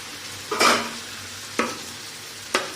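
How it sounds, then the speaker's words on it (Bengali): Fried chicken pieces go into a thick spiced masala of cooked-down tomato, bringing three short sizzling, stirring bursts about a second apart over a quiet background hiss. "মুরগি ভাজাগুলো দিয়ে দিচ্ছি।"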